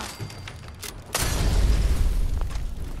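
A Molotov cocktail bursting into flame in Fallout 4, a sudden boom followed by a sustained low roaring rumble close by.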